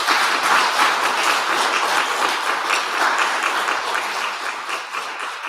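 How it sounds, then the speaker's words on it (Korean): Church congregation applauding during a Sunday morning service as department heads receive gift certificates, a sustained, loud round of clapping that holds steady and tapers slightly toward the end. "우리 드릴 때 박수하겠습니다."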